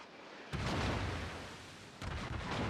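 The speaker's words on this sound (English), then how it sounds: "Salem continuing to lob shells in there, just fishing for him." Two heavy naval gun salvos from the cruiser Salem in World of Warships, each a sudden deep boom followed by a long rumbling decay, loud and close with no talking.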